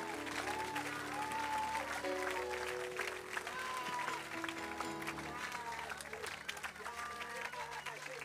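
A church congregation applauding during a charismatic worship service, steady rolling clapping in a large room, with an amplified voice and music over it, fairly faint overall.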